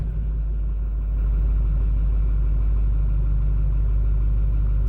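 A Ford F250 pickup with the 6.4 engine idles with a loud, steady, deep rumble that swells slightly about a second in and then holds even throughout, with no voices.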